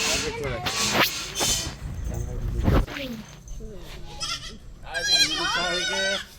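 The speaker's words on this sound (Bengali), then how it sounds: "আজকে দুটো বাচ্চা হলো ছাগলের।" Newborn twin goat kids bleat in high, wavering cries, several overlapping near the end, while people talk nearby on a farm.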